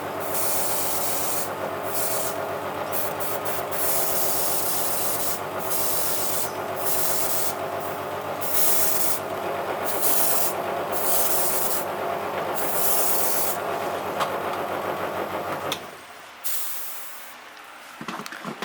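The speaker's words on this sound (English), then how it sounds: "Sorry about the compressor noise." Small, noisy airbrush compressor running steadily while a fishing lure is spray painted, a continuous loud motor hum under bursts of broadband spray hiss that come and go, with the machine cutting off near the end.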